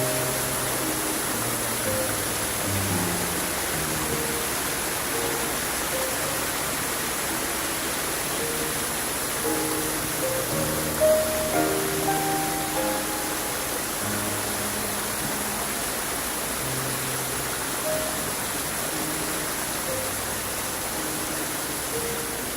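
Waterfall on a beachcombing outing: a steady, broad rushing roar of falling water that runs unbroken throughout, heard close and fairly loud, with no talking.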